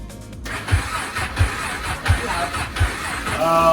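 A KTM race bike on fresh race fuel is started with the clutch in; four evenly spaced, thudding pulses from the engine are heard as it cranks, and it does not catch and run.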